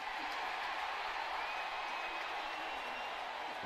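A football stadium crowd at the 1994 Green Bay Packers at Dallas Cowboys game rumbles in a steady, distant roar after a penalty flag.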